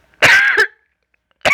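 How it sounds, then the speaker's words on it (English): A person gives a sharp, close cough in two quick bursts, then a short throat-clearing cough after a pause. "Hang on, I have to cough."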